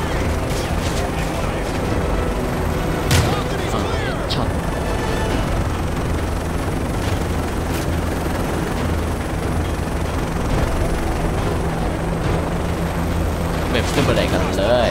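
Gunfire in the single-player campaign of Call of Duty Modern Warfare 3: dense, continuous battle noise with repeated shots and bursts that never let up, with a voice talking over it throughout.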